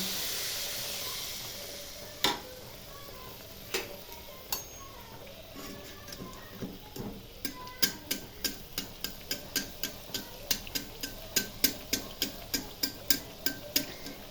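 Pitha frying in hot oil as oil is spooned over it, a steady hiss with a run of sharp, regular ticking spatters that grow denser and louder toward the end, close and alone.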